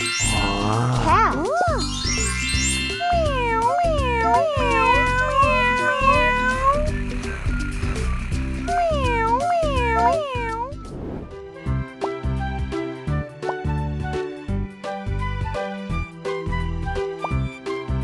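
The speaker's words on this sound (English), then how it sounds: "C is for cat. Cat." Cartoon-style cat meowing repeatedly in a bright sing-song pattern over cheerful children's music with jingling tones, loud and up front, then the music carries on alone.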